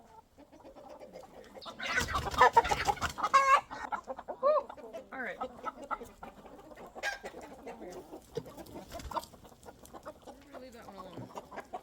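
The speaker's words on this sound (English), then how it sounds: "I wonder how long this chicken's been stuck." A dual-purpose homestead chicken that had been stuck clucks in scattered bursts close by, mixed with rustling and handling noises while a person speaks.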